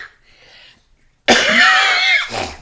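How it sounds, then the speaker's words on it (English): A single loud, close cough after a short stretch of near silence, harsh and raspy with a throaty tail. "We need a cough button for you"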